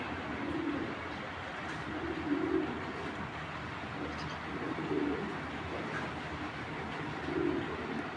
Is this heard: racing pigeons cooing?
yes